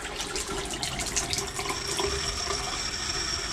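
Hot water runs steadily from a tap at an Alaska homestead with a generator nearby, a continuous close, even rushing hiss with no pauses and no talking.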